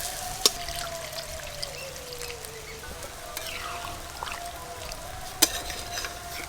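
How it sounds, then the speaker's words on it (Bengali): Water is poured into a pan of fried small shrimp in a Bengali home kitchen, giving a steady, soft rushing and bubbling wash with a couple of sharp clinks, no talk. "ভেজে রাখা চিংড়ি মাছ, এবার পরিমাণ মতো জল দিয়ে দেবো।"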